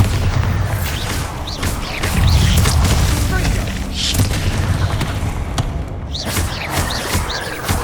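In the Hogwarts Legacy video game, Bombarda spells go off as a run of loud booming explosions with heavy thuds and crashes, several blasts overlapping close together amid battle effects.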